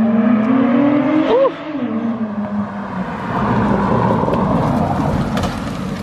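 A 2010 Acura TL with a full straight-pipe exhaust, test pipes and muffler delete, revs loudly nearby with a rising then falling engine note, followed by a rough, raspy drone.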